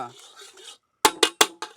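A metal utensil knocks against a frying pan during home cooking, four sharp, loud clanks in quick succession after a stretch of softer scraping and stirring.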